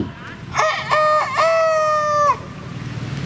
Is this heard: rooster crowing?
yes